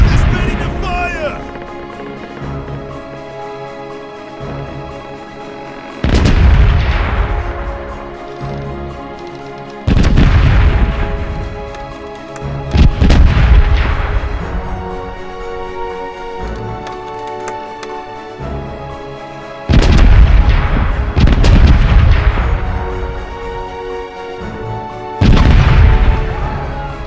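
Starboard ship cannons firing during a Caribbean pirate sea battle in the game Corsairs Legacy, a series of heavy booming blasts spaced a few seconds apart, each with a long rumbling decay over background music.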